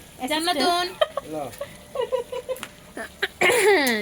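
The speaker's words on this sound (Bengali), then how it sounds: "এখন মাছ ভাজি হচ্ছে এটা পুঁটি মাছ আর এগুলো ছোট এগুলো তেলাপিয়া মাছ" Puti and tilapia fish frying in oil in a pan on a stove, a soft sizzle with stirring clatter beneath frequent voices talking nearby.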